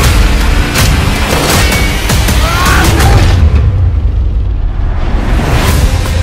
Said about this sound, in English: As soon as he gets Dmitry, he'll detonate the explosives